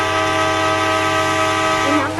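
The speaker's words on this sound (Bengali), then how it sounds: "চলো আমরা ট্রেনটা চালিয়ে দিই, দেখি ট্রেনটা আবার কি হয়।" The train in the mobile game Indian Bike Driving 3D gives a steady, loud, tonal horn-like drone that holds alone for about two seconds.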